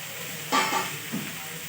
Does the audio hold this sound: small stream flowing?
no